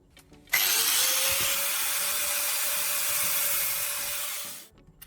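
A tool grinds through a hollow metal antenna piece in one continuous, loud, close burst lasting several seconds, with a steady high whine that ends abruptly.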